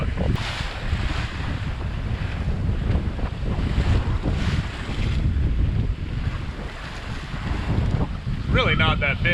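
A sailboat rising and dropping through ocean swells near Bequia and the Tobago Cays, with loud continuous wind buffeting and rushing water washing against the hull.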